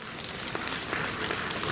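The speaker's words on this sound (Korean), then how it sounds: "애써주신 여러분들에게 박수 한번 크게 보내주시고요" A festival audience at the 18th Daehangno Culture Festival gives a big round of applause, a dense, steady wash of many hands clapping throughout, fairly loud and with no voices on top.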